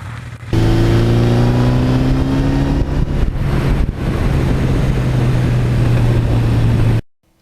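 A 1982 Suzuki GS1100E motorcycle drones loud and close while being ridden. Its engine note rises steadily under acceleration and is heard with wind and road noise, then cuts off sharply at the end.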